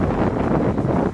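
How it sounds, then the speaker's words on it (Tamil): Wind blowing on a hill road at night near Yercaud, a loud, continuous rushing buffet with gusty swells, close to the microphone and with no speech. "காற்று மட்டும் தான் இருக்குது."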